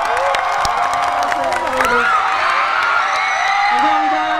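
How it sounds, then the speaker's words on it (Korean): A crowd at a university festival concert by a Korean rapper claps, cheers and whoops loudly and continuously, with shrill shouts and voices mixed into the roar. "박수 좀 쳐주세요"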